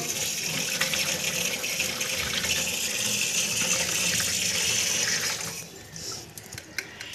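Water gushes steadily into a 20 litre plastic water can, a loud continuous pouring rush that cuts off abruptly near the end, leaving a few faint splashes and drips.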